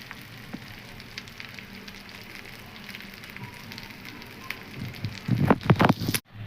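Fish pan frying slowly in oil, a soft steady crackle and sizzle throughout, with louder sputtering pops near the end before cutting off.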